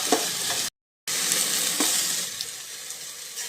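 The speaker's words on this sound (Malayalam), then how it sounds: "അരിഞ്ഞു വെച്ചിരിക്കുന്ന ഉരുളക്കിഴങ്ങ് കൂടെ ഇട്ട് ഒന്ന് വഴറ്റിയെടുക്കുക." Chopped potatoes with onion and garlic sauté in a pan for a palak curry, giving a loud, steady close-up sizzle with stirring scrapes. The sizzle cuts out briefly near the start, then carries on alone.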